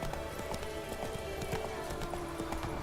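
Hooves of Roach, a horse in the video game The Witcher 3, clip-clop in a steady trotting rhythm, close and continuous over an ambient game backdrop.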